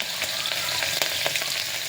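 Dense, crackling sizzle of onions and curry leaves frying in hot oil, with small pops scattered throughout, close and fairly loud.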